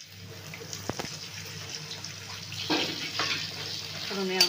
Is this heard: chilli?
yes